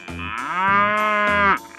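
A cartoon cow in a 3D animal slide game gives two long, loud moos in quick succession, each drawn out and clear, with no talking.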